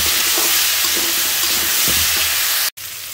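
Pumpkin and puti fish stir-fry in a pan with a steady, loud hiss of hot oil, with soft scraping and stirring bumps underneath and a momentary drop-out near the end.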